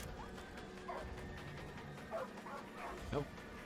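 Dog barks and whimpers in Far Cry 5, a few short yips spread over the clip with one sharper bark near the end, sitting over a steady game background and a faint voice.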